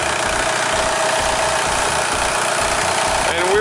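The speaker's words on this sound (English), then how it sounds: "we'll be able to hear the compressor kicking in when it has enough pressure" A VW Beetle engine idles with a steady, slightly knocking hum while its A/C compressor kicks in, the rumble continuing at close range with a faint rising whine near the end.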